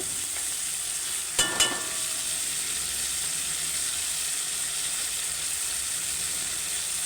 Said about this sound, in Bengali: এবার মশলাটা একটু কষানো হচ্ছে